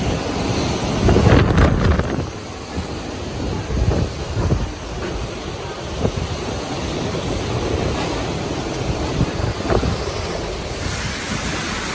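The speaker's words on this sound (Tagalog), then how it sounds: "Grabe na kadlok sa hangin." Strong typhoon wind from Typhoon Odette in Surigao City, a loud continuous roaring rush with gusty surges and heavy buffeting against the microphone.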